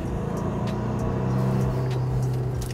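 A 2021 Maserati Levante's turbo engine surges as it accelerates up a mountain road in sport mode, with a sustained low droning rumble that swells and holds steady inside the cabin.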